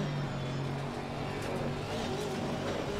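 A Bentley GT3 race car engine in Assetto Corsa Competizione roars at a sustained high pitch, a dense continuous drone with shifting revs and no pauses or talk.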